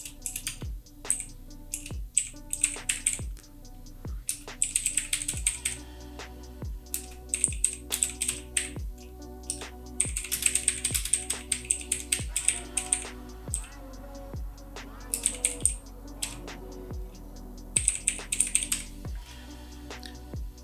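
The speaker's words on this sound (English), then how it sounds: "So just type in" Typing on a computer keyboard while building a corporate infographic in Adobe Illustrator, a steady run of close, crisp key clicks in short bursts with brief pauses, no talking.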